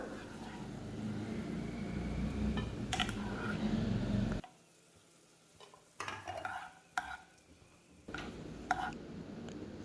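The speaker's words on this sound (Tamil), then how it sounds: "முந்திரி பருப்பு சேர்த்துட்டு அது லைட்டாக ஒரு கோல்டன் கலர் வரட்டும் இப்போ தேவையான அளவுக்கு காஞ்ச திராட்சை சேர்த்துக்கலாம்" Cashews and raisins fry in ghee with a steady close sizzle for several seconds, then the sound drops off and a few stirring clinks and scrapes follow before the sizzle returns.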